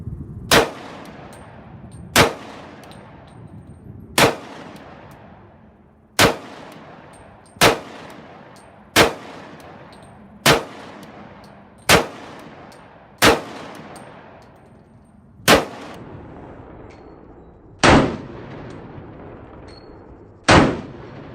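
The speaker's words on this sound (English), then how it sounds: "We probably fired about I'd say about 150 rounds out here today." A Sig Sauer pistol fires at an outdoor shooting range. About ten loud, sharp shots ring out one at a time at a slow, fairly steady pace, and each one echoes and fades before the next.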